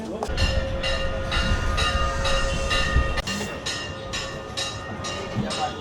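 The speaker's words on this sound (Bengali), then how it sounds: "দুর্গাপুর থেকে আমাদের ট্রেন ছেড়ে দিল।" An Amrit Bharat Express train pulls out of Durgapur and runs on, with a loud continuous rumble, rhythmic wheel clatter and a faint voice in the background.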